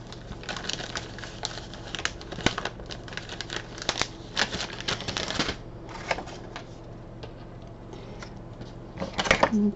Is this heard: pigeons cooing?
no